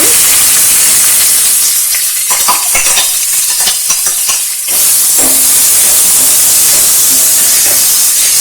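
Onion going into a hot pan with curry leaves and bay leaf for chicken keema methi, giving a steady loud sizzle and hiss with a few stirring clatters and no talk.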